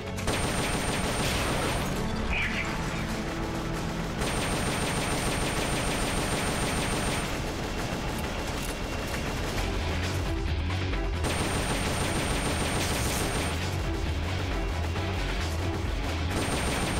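Continuous gunfire from a weapon in Metal Gear Solid Peace Walker, loud, dense shooting that runs almost unbroken with brief dips, layered with explosive game effects.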